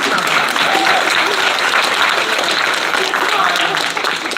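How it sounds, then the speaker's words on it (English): An audience at an APFC 21 fight weigh-in event gives a loud, sustained round of applause, dense clapping mixed with crowd noise and voices throughout. "When he started that, round of applause."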